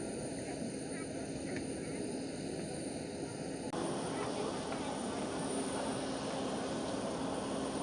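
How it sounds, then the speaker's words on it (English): An EasyJet Airbus A320neo jet arrives at Schiphol Airport, its engine noise a steady broadband roar that swells slightly partway through, with faint talk in the background. "EasyJet A320neo just arrived."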